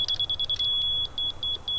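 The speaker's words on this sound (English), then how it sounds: "So it just went from that really fast beep to that more of a steady beep." An electronic level detector used for laying out a swale on a landscape beeps high and sharp, first in a rapid run of pulses and then holding a steadier, longer tone, loud and close over faint outdoor rumble.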